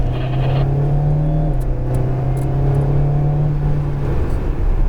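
Alpine A110R sports car engine droning steadily from inside the cabin on a track at Lohéac, pitch holding then easing slightly, loud and continuous with road and wind noise.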